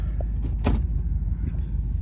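Low, steady engine rumble heard from inside a moving 2004 Dodge Ram 2500 pickup truck, with road noise and a faint click or two.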